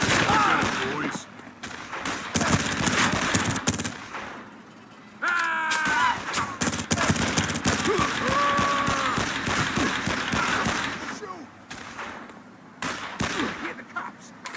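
Gunfire in the PS2 game Made Man: Confessions of the Family Blood, dense rapid bursts of shots and thuds running through most of the stretch, mixed with game voices and music.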